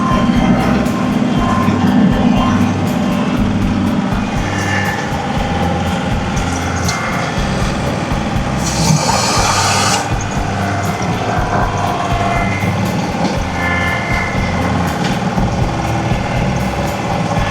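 A John Deere 2038R compact tractor working a deer food plot with PTO-driven blades churning soil, a loud continuous engine and implement drone close by, with a brief harsher surge partway through.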